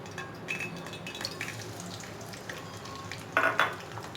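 Chopped onions hit hot oil in a pan, giving a soft, low sizzle with light clinks of a utensil and a brief louder crackle near the end.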